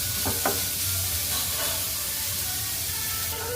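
Mushrooms about to go into a pan of sautéing ingredients for a Kerala-style mushroom mezhukku, giving a soft continuous sizzle with a faint stir or scrape near the start, fairly quiet and without voices.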